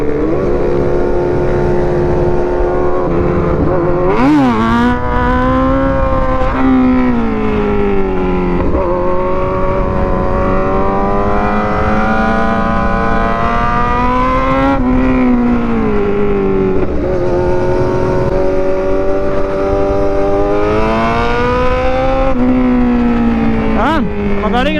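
A Yamaha NMAX scooter and a Honda Rider 150 FI motorcycle ride hard through banked corners toward a devil's corner, their close, loud engines droning and repeatedly revving up and easing off, with wind rush and a few brief voices.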